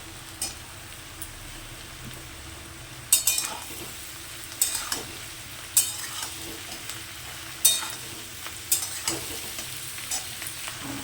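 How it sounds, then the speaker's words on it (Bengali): Tomato goes into garlic frying in a pan, a soft, steady sizzle broken by a series of sharp utensil scrapes and clinks against the pan at irregular intervals. "এর মধ্যে আমি টমেটোটা দিয়ে দিচ্ছি"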